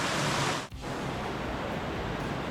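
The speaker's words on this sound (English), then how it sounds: "Check out this huge waterfall just here." A huge waterfall in Torres del Paine, Patagonia roars as a steady, loud wash of broadband rushing water, with one brief dip near the start.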